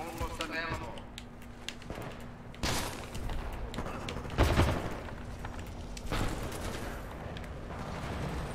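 Smart pistol gunfire in Titanfall 2 crackles in rapid bursts among other game shots and impacts, moderately loud, with a few heavier booms mixed in.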